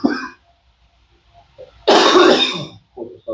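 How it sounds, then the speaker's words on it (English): Coughing fit during a gym workout, a short cough near the start then a loud, harsh burst of coughs, followed by a few smaller throat-clearing coughs, close to the mic. "Of course, I start coughing."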